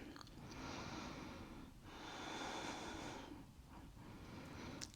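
Slow, deep breathing while holding a yoga shoulder bridge pose, three long airy inhales and exhales close to the microphone, quiet and unhurried with no talking.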